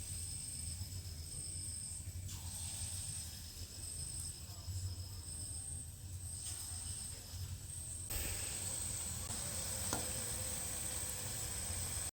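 Banana fritters (kolar bora) frying in hot oil, a steady close sizzle and hiss running throughout with occasional clinks and stirring sounds, no talk.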